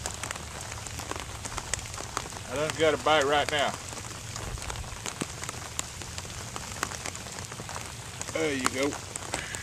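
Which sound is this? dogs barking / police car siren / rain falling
rain falling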